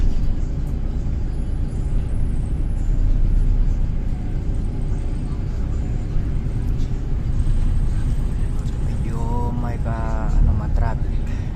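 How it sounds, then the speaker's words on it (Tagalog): Slow-moving road traffic in Pasay City, heard from inside a bus with cars around it: a steady, loud low rumble of engines runs throughout, with a brief tonal horn- or brake-like sound near the end. "Traffic."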